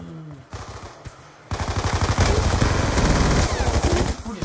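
Rapid automatic gunfire from the video game Call of Duty Black Ops 2 starts abruptly after brief quieter game sounds and stays loud and dense, a steady rattle of close shots.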